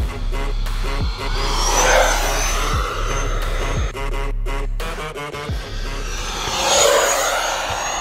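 Loud whining jet of an E-flite F-16 Thunderbirds 80mm electric ducted-fan RC model flies past, its pitch sweeping up and down as it passes close by.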